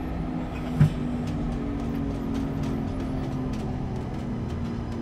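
An SNCF TGV Duplex train in a Train Simulator game slowing down, a steady low engine drone with a faint hum that stays even, with one brief thump near the start and no talk.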